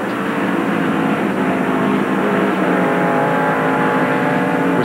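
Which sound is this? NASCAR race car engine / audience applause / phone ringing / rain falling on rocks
NASCAR race car engine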